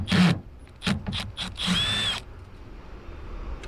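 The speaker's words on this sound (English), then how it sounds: "Now there are three 10mm bolts. Take your socket and start removing them." A power socket tool spins out 10mm bolts holding the side mirror on a 2002-2006 Mitsubishi Outlander, several short loud whirring bursts close by, the last one longer, then quiet.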